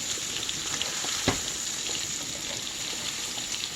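Turkey Salisbury steaks fry in a thin layer of olive oil, giving a steady close sizzle and hiss throughout with one brief louder crackle partway through.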